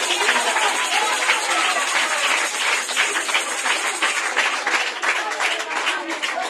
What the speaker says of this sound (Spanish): dar un aplauso al Espíritu de Dios